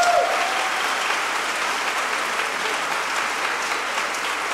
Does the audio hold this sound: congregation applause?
yes